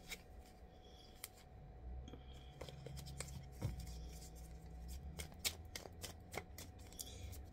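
Tarot cards are shuffled by hand in a quiet room, a faint run of soft riffling and sharp snapping flicks repeating irregularly, close and alone.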